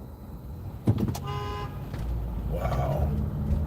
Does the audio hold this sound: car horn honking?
yes